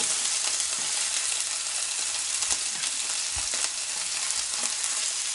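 Continuous crackling sizzle of hamburger steaks frying in a very hot pan, fairly quiet, with a few soft clicks and pops and no voices.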